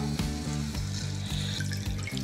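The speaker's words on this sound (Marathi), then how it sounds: "आता हा मसाला छानपैकी परतून झाला की यामध्ये घालूयात पाणी" Water poured into frying masala in a home kitchen pan, a continuous splashing, gurgling stream over sizzling, with background music carrying a steady beat throughout.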